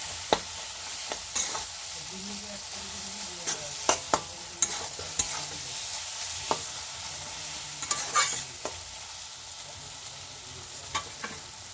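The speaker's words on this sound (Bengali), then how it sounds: "আমি টমেটো কুচি দিয়ে আর ডিম দিয়ে এটাকে ভালো করে কিন্তু নাড়ানাড়ি করে দিচ্ছি।" A spatula stirs chopped tomato and egg in a sizzling frying pan, scraping and knocking in irregular strokes over a soft, continuous fry.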